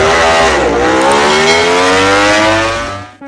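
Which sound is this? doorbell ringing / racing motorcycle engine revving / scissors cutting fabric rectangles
racing motorcycle engine revving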